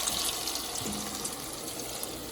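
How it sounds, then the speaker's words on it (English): Water pours steadily into a cooking pot of fried cow skin for a Jamaican curry with butter beans. It makes a continuous close splashing rush without pause, and no one talks over it. "I'm gonna add some water into it"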